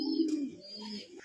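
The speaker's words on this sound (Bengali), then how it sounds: "সুপার কোয়ালিটির একজোড়া শৌখিন কবুতর, তাও আবার ইন্দোনেশিয়ান কালারের" Fancy Indonesian-colored pigeons at a farm give a low, throaty coo up close, a rolling murmur that fades and rises again over about a second.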